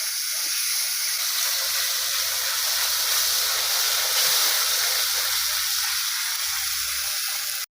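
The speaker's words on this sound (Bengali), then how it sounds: "একটুখানি জল দিয়ে দিলাম, মশলাটা ভাজা ভাজা করবো" A spice paste of mustard, flour, cumin and chili, thinned with a little water, fries in a pan for a fish curry, giving a continuous loud hiss and sizzle that holds steady, then cuts off abruptly.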